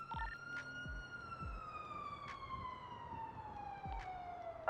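A police car siren in a roleplay video game wails continuously with a slowly falling tone, fairly faint, with a few short thumps around it.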